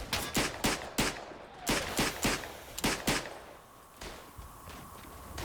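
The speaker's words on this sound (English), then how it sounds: "Fucking love this gun." Rapid gunfire from a First World War rifle in the video game Verdun, a string of sharp, loud close cracks in quick succession, pausing briefly and then continuing with fainter shots.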